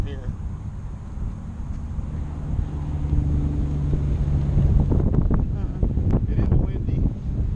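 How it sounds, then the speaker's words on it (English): Strong wind buffets the microphone with a low, constant rumble, and someone talks over the gusty roar during a test flight. "It is windy, I will tell you that."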